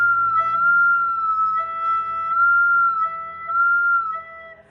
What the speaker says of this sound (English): Or it's possible one of your fingers isn't quite seated over top of the key right. Then it might sound like this.